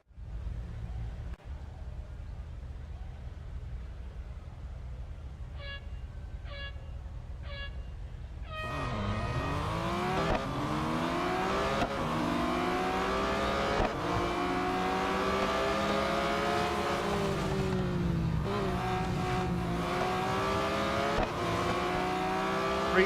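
A Porsche race car in Real Racing 3 idles on the grid under three countdown beeps, then launches into a loud, rising engine howl with gear shifts as an eight-car race gets underway.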